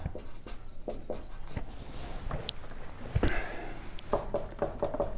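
A pen scratches across paper while maths equations are written out, giving close, rapid, uneven strokes and taps that continue steadily with no talking.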